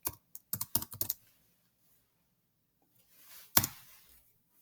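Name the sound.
typing a project name on a computer keyboard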